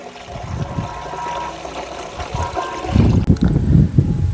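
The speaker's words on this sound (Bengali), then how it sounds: "ভ্যালিডামাইসিনটা দেওয়ার পরও কিছুটা জল দিয়ে দেবো" Water poured into a backpack sprayer tank while mixing a paddy spray, a steady close splashing and trickling that grows fuller and louder in the last second and a half, with no talking.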